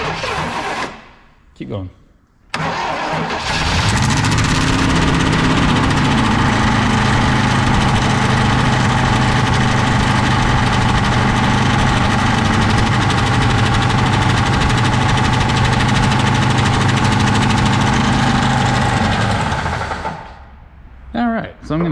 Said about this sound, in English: So I'm going to say that that is a trash engine.